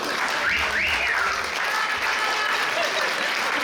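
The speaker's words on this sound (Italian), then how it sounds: "accogliamole con un applauso perché sono timide" Audience applause greets shy contestants coming out at a retirement party, a dense steady clapping throughout, with a voice or whistle rising briefly above it near the start.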